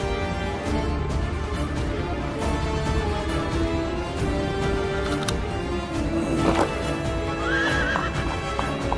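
A horse neighs loudly in a long whinny while hooves clip-clop in a steady rhythm, close and prominent over a busy background, with no speech.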